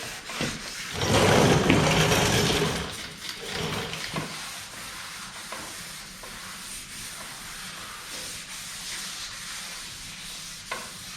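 Dry sanding over car body paint, a steady abrasive rubbing that swells loud for a couple of seconds early on, then settles into quieter, uneven scuffing strokes with no one talking.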